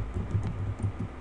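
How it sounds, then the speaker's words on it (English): A terminal command is typed on a computer keyboard as a quick run of soft, close key clicks in an uneven rhythm, with no voices. "you just type sudo apt hyphen update"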